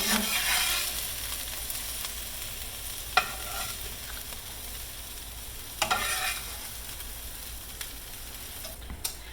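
Floured beef and vegetables sear in a pan with a steady, moderate sizzle, broken by a few sharp clatters of stirring or utensil contact.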